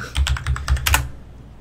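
Quick, close clatter of keys on a computer keyboard during a livestream, a short burst of rapid strokes that fades out after about a second.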